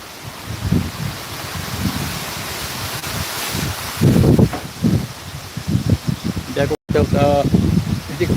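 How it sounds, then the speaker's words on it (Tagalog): Steady rain hissing as typhoon Uwan passes over Eastern Samar, a constant wash of noise beneath someone talking close to the microphone, with one brief dropout. "Hindi na masyadong malakas ang ulan."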